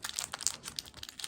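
Tracing paper folded and crinkled around a homemade WWII-style bandage, a quick run of close, dry rustles and crackles with no talking.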